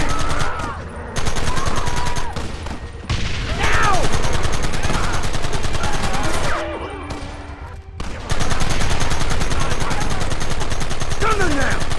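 Heavy gunfire rattles nonstop in Red Dead Redemption, dense bursts of rifle and machine-gun shots close and loud, with brief lulls and shouting voices mixed in.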